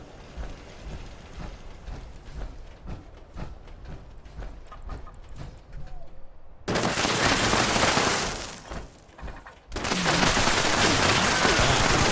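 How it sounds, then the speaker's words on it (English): Automated turret gunfire in the video game Fallout 76 starts as scattered shots and rattling, then becomes two long stretches of loud, dense, rapid fire. "There's a turret somewhere."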